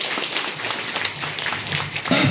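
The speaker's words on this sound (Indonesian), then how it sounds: "Sekali lagi tepuk tangan untuk para calon-calon anggota legislatif" Sustained applause from a political rally crowd for legislative candidates at a PDIP branch inauguration, a dense steady patter of clapping running from start to finish with a voice speaking over it.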